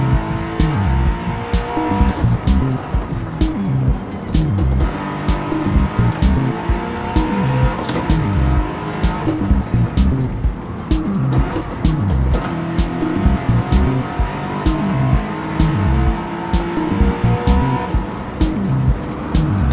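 Race cars in the Gran Turismo 7 racing game roar loudly and continuously, engines rising and falling through gear shifts, with tires squealing through corners and other cars passing close.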